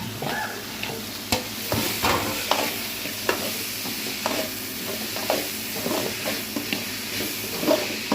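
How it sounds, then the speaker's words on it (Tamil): Carrots and beans stir-fried in a pan for vegetable macaroni, a continuous sizzle and frying hiss with repeated scraping and stirring clicks of the utensil against the pan, close and steady. "இப்போது காய் சேர்த்துக்கலாம் நான் வந்து கேரட்டும் பீன்ஸ் மட்டும் தான் எடுத்துருக்கேன் ரெண்டுமே போட்டுக்கலாம்"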